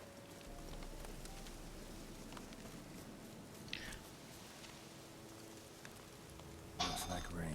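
Steady rain hisses and patters throughout in Witcher 3, a soft, even wash of drops with a few brief sharper splashes near the end.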